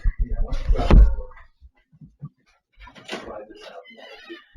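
A door is opened to head outside in a house with a cat and kittens: one solid knock and slide near the start, then quiet talking in the room.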